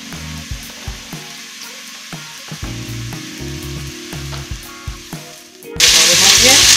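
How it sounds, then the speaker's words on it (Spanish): Chopped onion and garlic drop into hot oil in a pan and sizzle, with a steady frying hiss, soft scraping stirs and clinks, then a sudden louder burst of sizzling near the end. "Vamos a añadir la cebolla. Y el ajo picados."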